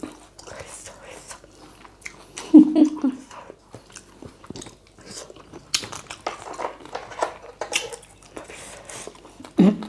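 Close, wet crunching and chewing of a spicy Thai raw green mango salad, irregular bites with louder crunches, mixed with murmured speech and soft mouth noises.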